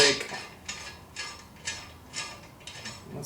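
Brake work on the driver-side rear wheel of a 1990 Miata, pulling off the rotor: a series of five or six regular metallic scrapes and clanks, close and moderately loud, with no talking.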